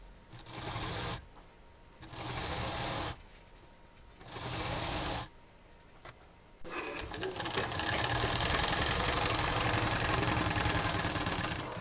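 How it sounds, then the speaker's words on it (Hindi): A sewing machine stitches a saree into a single bed cover, running in repeated bursts separated by short pauses before settling into a longer continuous run. "तो अब इसको हम यहाँ से एक साइड से इसको सिलना शुरू करेंगे।"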